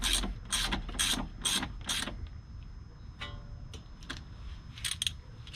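Ratchet wrench snugging bolts on the suspension knuckle and strut top of a 2019 Subaru WRX: several quick bursts of clicking in the first two seconds, then quieter, sparse ratcheting near by.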